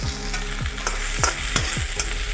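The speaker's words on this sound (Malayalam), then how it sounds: "ഇതിലേക്ക് തക്കാളി കറിവേപ്പില ചേർത്ത് കൊടുക്കാം." Tomato and curry leaves sizzle in a hot pan, a dense close frying hiss with regular scraping stirs about every third of a second, loud and steady, no voices.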